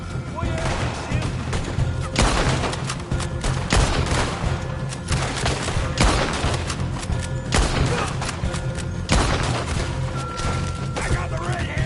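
Heavy gunfire in a video game erupts in repeated loud volleys and bursts over about twelve seconds, punctuated by booms and crashes, with shouting voices and talk mixed underneath.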